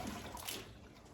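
A bowl of water is poured over a RainX-treated car windshield, giving a short splashing wash of water that sheets off the glass, fairly close and steady before tapering slightly.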